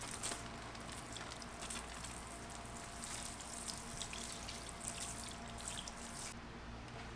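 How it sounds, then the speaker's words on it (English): A steady spray of water hisses continuously from a small battery-powered portable shower nozzle, close and even, with a constant gushing texture. "it'll start giving me a nice stream of water"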